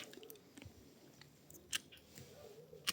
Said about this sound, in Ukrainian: Обрізаю на дві-три бруньки.